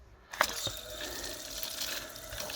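Water runs through a Karcher K4 pressure washer being bled of air for a leak problem, a soft steady trickle and splash with a couple of sharp drips near the start, fairly faint and alone.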